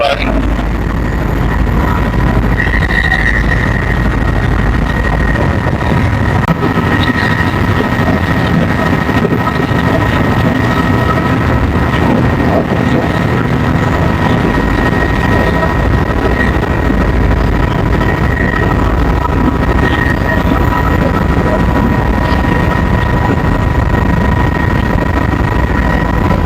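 A loud, steady rotor and engine roar fills the whole stretch as a tour helicopter lands in Cape Town, droning continuously with a high whine on top, as from inside or beside it.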